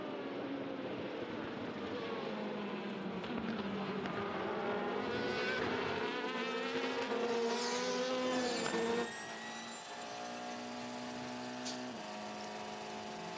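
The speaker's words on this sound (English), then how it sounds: "Some high-speed overtaking." Race cars at the 2016 24 Hours of Le Mans scream past in a high-speed overtake, engines rising and dropping in pitch as they sweep by, a loud passing roar that then settles into a distant hum.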